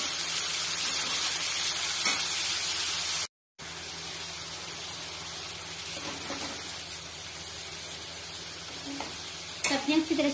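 Cauliflower, capsicum and tomato being stirred in a pan for masala Maggi noodles, giving a steady soft sizzle and hiss with scattered utensil scrapes, a brief dropout partway through and louder clatter near the end.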